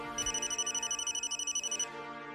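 A telephone rings in a home, a repeating electronic ringtone pulsing steadily for about two seconds before it cuts off, with no voices over it.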